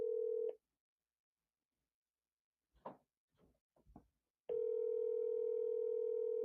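A steady telephone dial tone cuts off while a call is placed, followed by a few soft clicks and faint tones, then the continuous tone returns, loud and clear with no talking.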